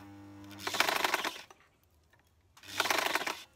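Sewing machine stitching fabric at a half-inch seam, two bursts of rapid mechanical whirring separated by a quiet pause, close and clear.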